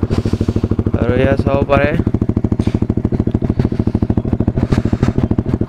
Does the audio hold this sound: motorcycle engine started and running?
yes